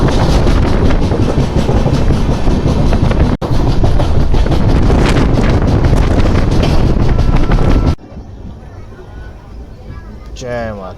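The Hemkunt Express, a passenger train, rolls steadily along the rails with a loud, continuous rumble and wind rush that suddenly drops to a quieter interior hum near the end.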